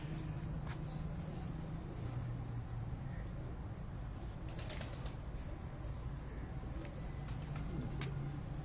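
Cooing from an Ali breed pigeon at a flying-pigeon breeder's loft, low soft coos recurring throughout over steady outdoor background noise, with a few brief flutters and chirps from other birds.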